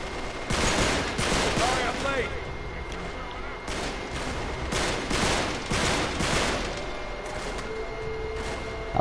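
Rapid bursts of gunfire in the video game Uncharted 3, dense volleys of shots crackling on and off over about nine seconds amid a busy battle mix, with no talking over it.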